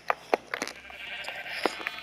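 Bleating sheep in Minecraft, several short wavering bleats repeated at irregular intervals, fairly close and clear, with a faint game background between calls.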